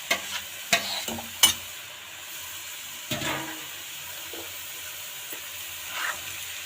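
Peas being stirred into lightly roasted spices in a pan for a white chickpea and potato curry, giving several sharp scraping strokes early on over a quiet sizzle, then sparser stirring taps and a soft hiss.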